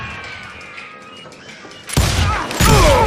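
Gunfire in the Call of Juarez video game: a quiet stretch gives way to a sudden loud volley of shots at about two seconds, followed by a second heavy burst near the end.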